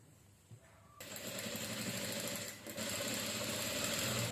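A sewing machine stitches a seam on a saree blouse, starting after a brief pause and then running as a steady, close, loud mechanical whir with a short dip midway.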